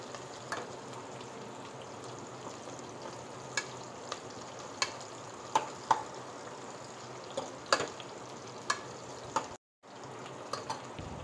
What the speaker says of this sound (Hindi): हल्का सॉफ्ट होने तक भूनेंगे